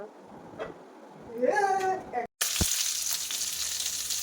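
Catla fish frying in a pan: a voice first murmurs briefly, then after a short gap a loud, dense, steady sizzle takes over close by and continues to the end.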